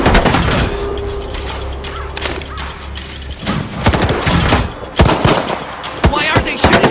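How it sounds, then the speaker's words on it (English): Rapid automatic gunfire in the STALKER 2 video game rattles in dense bursts with loud booming shots close by, punctuated by brief pauses and clanking mechanisms. "Why are they shooting at us?"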